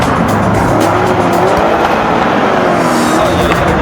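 A red Lamborghini Urus roars loudly with a sustained engine rev while its tires squeal continuously, one dense unbroken burst close by.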